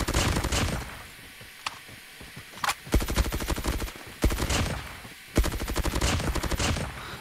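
Groza assault rifle bursts from a video game: rapid automatic volleys in four or five loud, close bursts separated by brief pauses, each a dense crackling rattle with sharp onsets.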